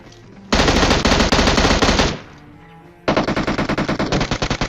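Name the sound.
gunfire in a battle royale video game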